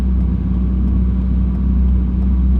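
A Ferrari 458 with an S-Line valved exhaust idles with the valves closed, heard from inside the cabin with the air conditioning on, a steady, deep, subdued rumble.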